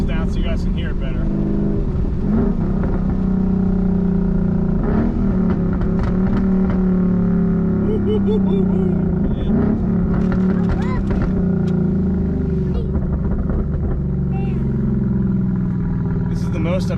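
A Ford Mustang engine drones loudly and continuously from inside the cabin with the windows down, revving and shifting in pitch, with a person talking over it.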